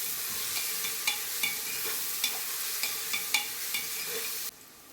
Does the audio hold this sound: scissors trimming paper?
no